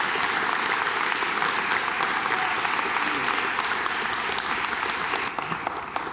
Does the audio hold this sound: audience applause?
yes